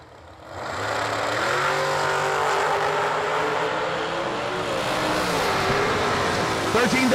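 Two dragsters launch side by side at a drag strip, a 2014 Precision Chassis dragster against a double dragster, their engines roaring loud and sustained as they run down the track, with faint announcer talk mixed in.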